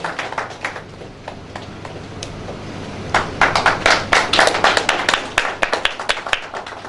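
An audience claps at a Loncin motorcycle Eid Milan party award ceremony: scattered hand claps at first, then a denser, louder burst of applause.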